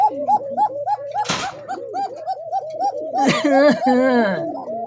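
White Narsingdi Bombai pigeons coo in a steady rhythmic series, close and loud, with a sharp flutter or clatter midway and other birds chattering near the end.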